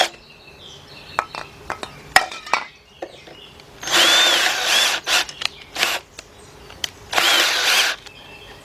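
Hand-chuck power drill boring with a 5/16 bit during engine removal work on a 1977 Buick LeSabre 350: two sustained whirring runs of drilling, separated by scattered clicks, taps and handling noises.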